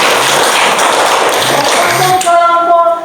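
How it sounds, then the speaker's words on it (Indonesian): A grade 7 class at an Islamic junior high school applauds a student group, giving a dense burst of many hands clapping that stops after about two seconds and gives way to a voice. "Tepuk tangan untuk kelompok matahari."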